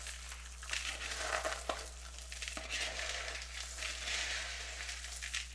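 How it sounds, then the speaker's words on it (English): Cornflakes tossed in melted butter rustle and crunch under steady stirring, with a soft crinkly scraping that continues without talk. "I'm going to give this a pretty good stir. Just kind of coat the cornflakes with the melted butter."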